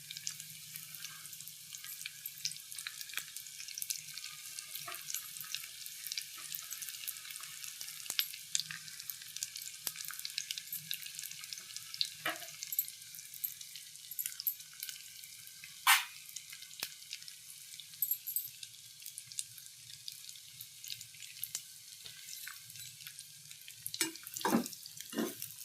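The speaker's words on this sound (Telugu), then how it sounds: "అల్లం ముక్కలు వేపుకుందాం బాగా. ఇది పల్లీల ఆయిల్ అండి." Pieces of ginger fry in peanut oil for a ginger pickle, giving a steady, close crackling sizzle with scattered sharp pops and an occasional stir, with no talking.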